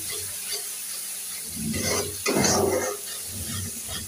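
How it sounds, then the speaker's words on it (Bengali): Spice mix of turmeric, chili powder, coriander powder and kabab salt fried and stirred in a pan, a steady sizzle with scraping stir strokes that swell in the middle, close by with no talk. "মশলাটা সুন্দর করে কষে নিই।"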